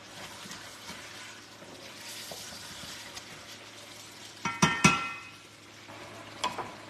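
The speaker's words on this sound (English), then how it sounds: "I need to hit the bottom of my pan. This pan get hot. You gotta scrape that bottom sometimes." Metal utensil scraping and clanking against the bottom of a hot pan of chicken and rice, with a steady background sizzle and a few sharp scrapes clustered near the end, close and moderately loud.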